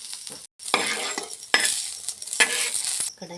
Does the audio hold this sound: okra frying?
yes